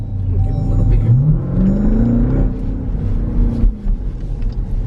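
A Jeep Grand Cherokee Trackhawk's supercharged engine accelerates at light part throttle, a deep close rumble rising steadily in pitch through the gear, then dropping back to a low burble.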